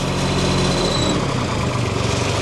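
A Komatsu PC05 mini excavator, a 1.5-ton machine, runs with a steady close engine drone and chugging vibration, slightly revved, with no voices.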